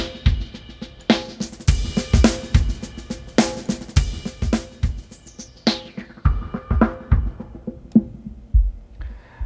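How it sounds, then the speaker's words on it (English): A short, traditional drum loop played through a ResFilter resonant filter plugin with no talk over it. Punchy kicks and snappy hits repeat in a steady pattern, and the filter sweeps down near the end, darkening the top. "I have a small drum loop here. It's just a traditional drum loop."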